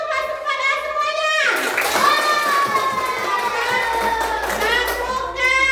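Children in a primary science class clap their hands together, a dense patter of small hands mixed with excited young voices and chatter, fairly close and lively throughout.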